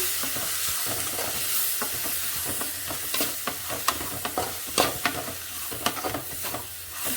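Dry fish curry sautés in a pan with a close, continuous sizzle broken by sharp spatters and crackles as it is stirred.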